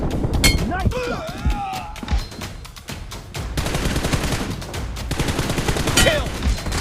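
Sustained automatic gunfire in a shooter video game: dense, loud, overlapping volleys and thuds running throughout, with short bursts of speech mixed into the shooting.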